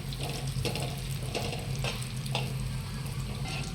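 Dry fruits roasting in ghee in a pan after poppy seeds, for modak filling: a faint, even hiss of frying, broken by a few soft stirring scrapes at regular intervals.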